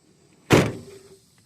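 A 1999–2003 Ford Super Duty truck door opens with a single solid clunk nearby, its short rattle fading quickly into quiet.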